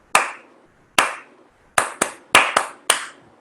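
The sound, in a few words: hands clapping a rhythm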